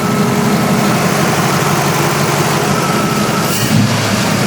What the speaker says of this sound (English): Definitely an idle change. Sucks a lot more air.